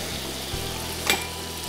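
Flour cooking into melted butter for a blond roux while it is whisked: a faint, steady frying hiss with a low hum underneath and a brief brighter scrape near the end.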